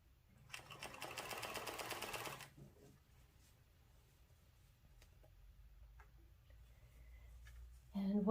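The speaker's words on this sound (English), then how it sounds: "I'm letting the machine pull it through" A sewing machine hemming baseball pants runs in a close, rapid whirring burst for about two seconds, then stops; a quiet room and a faint click follow, with no talk.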